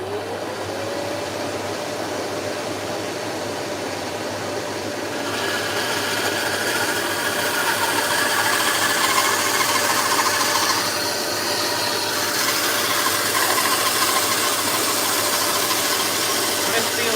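A saw cutting through maple wood keeps up a steady mechanical whine and buzz, getting a little louder and harsher partway through as the blade bites, with no voices over it.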